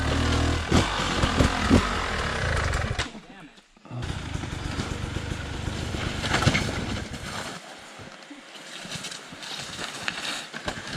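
Dirt bike carrying a passenger on the back at a motocross practice track, engine roaring loud and close with revving surges and a brief drop, wind noise throughout and people talking over it.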